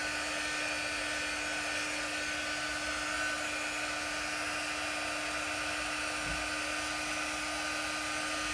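Steady, loud whirring blow of a heat or hair dryer drying white paint on a chalk-paint craft project, with an unbroken, even hum and airy hiss throughout and no talking.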